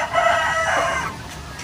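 Chickens clucking and a rooster crowing close by, a steady busy farmyard chorus with no talking.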